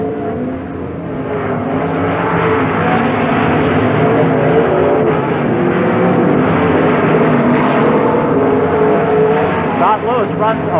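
Limited late model race cars roar around a dirt track at Sportsman Speedway in Knox, PA, in 1994: a loud, continuous massed engine drone with shifting pitch, while an announcer talks over it.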